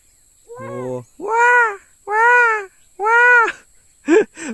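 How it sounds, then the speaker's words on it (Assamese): A peacock in a jungle in Manas National Park gives a series of loud, wailing, nasal cries, about five calls in a row with short pauses between them, close by. "ময়ূৰে এনেকৈ কান্দে না"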